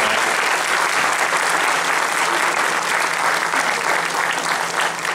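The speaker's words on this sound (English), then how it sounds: "let's give them all a big round of applause" Sustained audience applause fills a sheriff candidate forum in Portsmouth, a dense, steady wash of clapping from a large crowd with no break and no voices over it.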